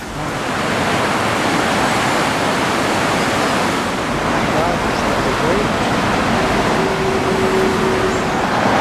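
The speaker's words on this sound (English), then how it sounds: "I'm just standing over a bridge over the River Greta next to quite a busy road" The River Greta rushes beneath a bridge beside a busy road in Keswick, Cumbria, a loud, constant broadband roar of water blended with passing traffic that never lets up.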